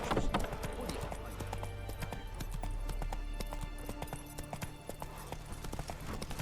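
Roach the horse galloping in The Witcher 3 video game, a steady rhythmic clatter of hooves under music and a voice.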